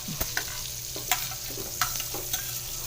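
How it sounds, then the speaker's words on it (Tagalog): Garlic and onion frying in a pan for tokwa sisig, a steady crackling sizzle broken by several sharp scraping clacks of a utensil stirring, close up with no talking. "na ilagay natin guys ang ating bawang at sibuyas, antayin lang po natin siyang mag kulay brown"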